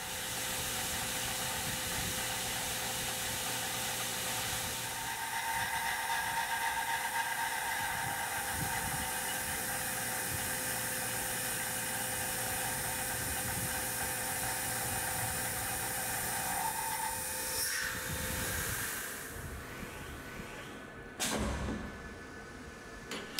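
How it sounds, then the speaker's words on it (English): A Pocket NC 5-axis desktop CNC mill cuts a heavy chamfer with a 3/8-inch four-flute carbide chamfer mill, giving off a steady high whine and grinding hum that holds for about twenty seconds before stopping with a clunk. "a fairly heavy chamfer with the 3/8 4 flute chamfer mill from Lakeshore Carbide"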